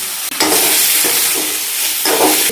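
Onion and a green chilli fry in hot oil in a pan, a loud, close, continuous sizzle with a brief dip near the start and a few stirring scrapes, with no voices.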